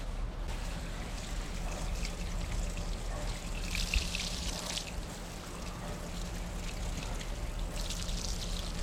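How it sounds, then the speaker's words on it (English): Water sprayed and pouring steadily over a greasy surface during cleaning, a continuous close rushing wash with brief brighter splashing bursts, no talking. "I'm gonna wash it down now."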